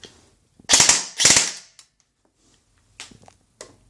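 Two sharp, loud shots ring out from a G&P Sentry M4 airsoft rifle, followed by a pause and two fainter clicks or shots near the end.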